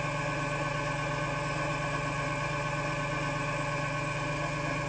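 Cork fly rod grip spinning on a mini lathe, a constant close motor hum with a steady vibrating drone and no break throughout.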